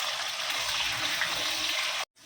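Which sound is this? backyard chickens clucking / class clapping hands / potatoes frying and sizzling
potatoes frying and sizzling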